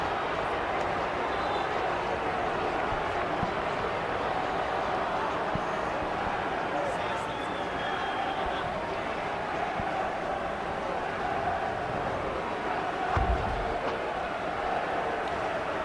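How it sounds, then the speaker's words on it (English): A large stadium crowd murmurs restlessly at Audi Field during a USL Championship soccer match, a steady distant roar with no sharp peaks, carrying on evenly throughout. "the crowd here at Audi Field getting a little bit restless now."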